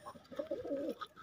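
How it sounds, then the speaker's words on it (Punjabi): Domestic pigeons kept as a hobby coo in one low, rolling, throaty burst, close by and heard alone. "ਲਾਲ ਪਏ ਨੇ ਕਬੂਤਰ ਥੱਲਿਓ।"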